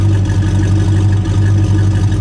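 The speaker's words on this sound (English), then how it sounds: "This is what your muscle car sounded like." A 1969 Dodge Charger R/T 440 muscle car with a big V8 idling up close, loud and deep, with a steady rumbling lope and no talking.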